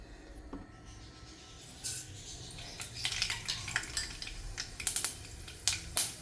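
Mustard seeds popping in hot oil in a pan for methi dal, sharp crackling pops starting sparse, then growing quicker and louder in irregular bursts over a faint sizzle.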